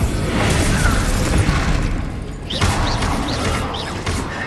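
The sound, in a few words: Expulso spell explosion in the video game Hogwarts Legacy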